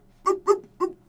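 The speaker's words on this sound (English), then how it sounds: "suddenly they hear barking in the distance" A dog gives three short, high yips or whimpering barks in quick succession, fairly close and clear rather than distant.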